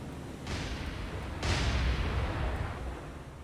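Two heavy, muffled booms of battleship gunfire in the naval game War on the Sea, off Guadalcanal, the second louder and rolling longer, heard at a distance over a steady low rumble.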